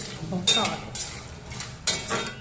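Edible gum frying in hot ghee is stirred in a pan, with a few sharp scraping and clinking strokes over a soft sizzle.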